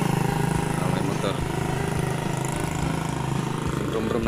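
A motorcycle engine rumbles steadily nearby on a road for several seconds while people talk over it.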